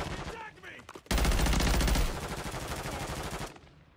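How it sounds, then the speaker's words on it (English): Rapid automatic gunfire in the video game Warzone, a dense loud burst of shots lasting a couple of seconds, then continuing slightly softer before cutting off, with brief voice sounds before it starts. "You got people shooting me though."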